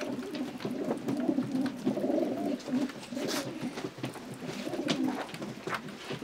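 Several Janssen, De Klak and Meulemans line pigeons coo steadily nearby, their deep, warbling phrases overlapping in a continuous murmur broken by occasional sharp clicks and wing rustles.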